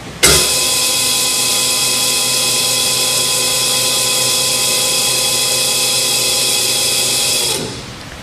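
A Pandjiris 4500 lb welding positioner with a pipe welding chuck, tilted to 45 degrees, rotates at variable speed, making a loud, steady, high electric motor whine with a sharp start and a clean stop after about seven seconds.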